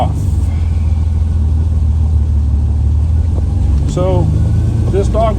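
A 1967 Ferrari 330 GTC with a front V12 and five-speed transaxle pulls away, a loud steady engine rumble heard from inside the car, with brief squeaky sounds near the end.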